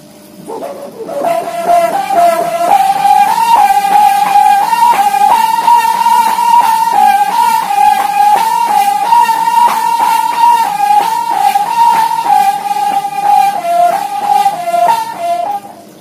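A rattan bird-call whistle gives a sustained, warbling whistle holding one wavering pitch for about fifteen seconds, loud and close, with a rapid fluttering trill running through it.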